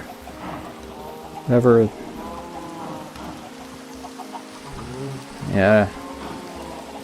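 Steady rain falls in Minecraft VR, a loud, continuous hiss running throughout under talk. No thunder rumble stands out.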